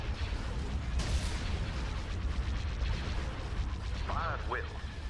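Warship batteries fire in Thrawn's Revenge, a space battle game, as a dense, continuous rumble of booming artillery blasts with brief whooshing bursts, while a voice speaks over it.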